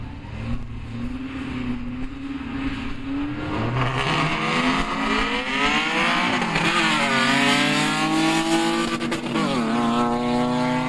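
A car accelerates hard in a quarter-mile drag race at Brilon against a VW Beetle, engine roaring loud and near with rising revs through repeated gear shifts, the pitch climbing, dropping and climbing again.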